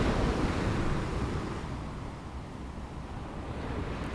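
Ocean surf rolls in a continuous broadband wash, loudest at the start and then easing into a steady, close roar of breaking water with some wind.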